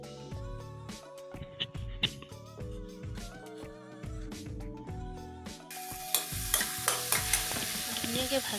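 Tomatoes with turmeric for a paneer curry fry and get stirred in a pan, a soft sizzle running under prominent background music and growing louder toward the end.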